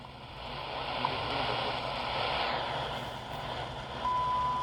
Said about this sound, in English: hear the beep. And I can hear the ticks.